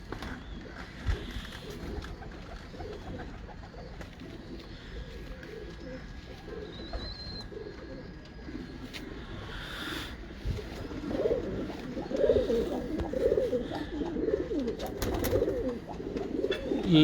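Main breeder pigeons cooing close by, soft low throaty coos repeating throughout and swelling louder toward the end, with occasional sharp chirps and flutter-like clicks around them.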